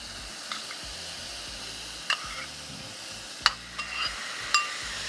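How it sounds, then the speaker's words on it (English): Shrimp frying with onions and peppers for fajitas on a Pit Boss griddle, a faint, steady hiss of sizzling broken by a few sharp clicks and taps. "Now let's add our shrimp and get it finished up."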